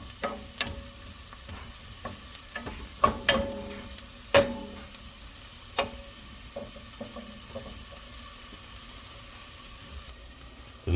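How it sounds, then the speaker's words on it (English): Onion sautés in a pan with a quiet, steady sizzle, broken by sharp clicks and scrapes from stirring. "Just saute this a little bit, let it tender up."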